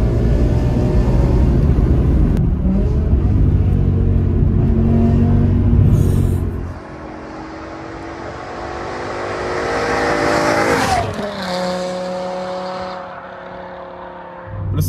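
BMW M6 E63 with its V10 engine accelerating hard: a loud, close, rising howl with smooth climbing harmonics, a pause near the middle as revs drop, then a second strong pull that swells and trails away, with no voices.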